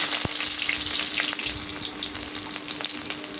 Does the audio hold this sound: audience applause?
no